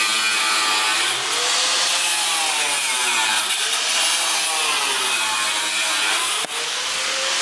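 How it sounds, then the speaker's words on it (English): Power saw cutting through the cowl of a Mazda RX8 during a car build, a loud continuous rasping buzz with slight shifts in pitch, close up and uninterrupted apart from one brief dip near the end. "Prepping to cut this cowl here."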